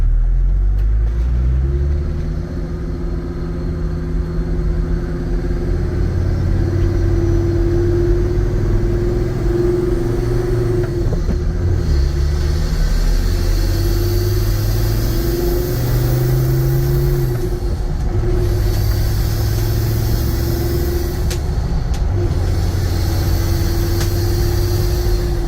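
A 1991 Mercedes-Benz 250GD Wolf with a turbo diesel engine drives along, its steady low drone rising and falling with throttle changes and gear shifts, close and loud throughout with no talking.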